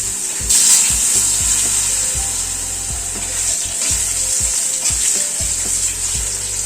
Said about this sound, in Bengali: আলুটা প্রথমে একটু হালকা করে ভেজে নেব।